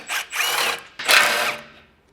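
Power tool, likely an impact driver, spinning out the rear bolts of a skid plate on a 2024 Toyota Tacoma: two loud close whirring bursts, each about three quarters of a second long, separated by a brief pause.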